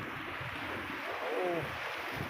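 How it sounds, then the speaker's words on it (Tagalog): Ocean surf at Sulangan, Eastern Samar, rolling in as a steady broad wash of water noise with a slight swell midway, close by and continuous, no voices. "Yan ang alon oh. Ang taas."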